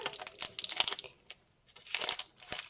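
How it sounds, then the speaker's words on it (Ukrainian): Scissors cutting open a paper surprise package, with close crisp snips and paper crinkling in two bursts separated by a short pause. "Для цього я принесла ножнички. Давайте будемо обережненько розрізати."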